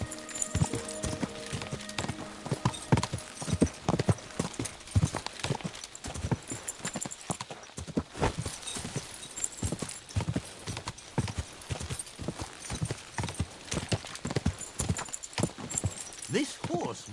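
A horse in the video game Kingdom Come: Deliverance 2 clip-clops along in a steady rapid hoof rhythm, with brief voices heard over the hoofbeats.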